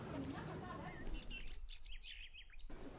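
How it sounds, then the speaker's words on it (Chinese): Birds in a Beijing hutong, Dengcao Hutong, give out a quick cluster of small, high chirps and tweets, soft and somewhat distant, over low ambient street hum. "还有鸟叫声，哎呀，真好。"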